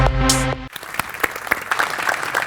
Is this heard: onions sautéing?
no